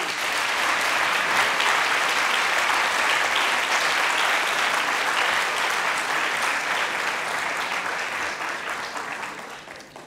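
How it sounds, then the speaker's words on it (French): Audience applause at a graduation ceremony for a retiring staff member, a dense sustained clapping from a large crowd that stays loud for about ten seconds, then begins to thin out. "je vous demande de l'applaudir très fort."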